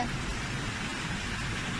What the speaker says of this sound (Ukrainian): Дощ усилився, він не хоче припадати